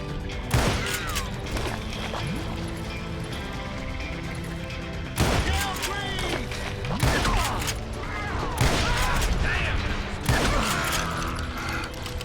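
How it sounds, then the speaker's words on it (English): Repeated shotgun-style blasts from a sawn-off rifle in the Western shooter Call of Juarez Gunslinger, loud bursts spaced a few seconds apart over a busy background of game music and ricochets. "Sawn-off rifle."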